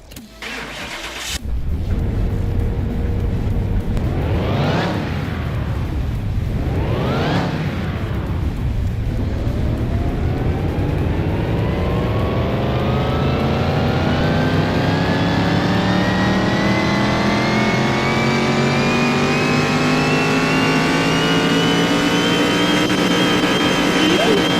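A car engine in Car Mechanic Simulator 2021 revs hard twice on a dyno, then climbs in one long, rising sustained pull. It is loud and close, with no talk.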